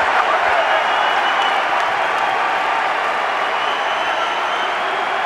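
Basketball arena crowd in Raleigh at a 2008 NCAA men's tournament game roars and applauds continuously, a dense loud wash of cheering and clapping with commentary faintly mixed in.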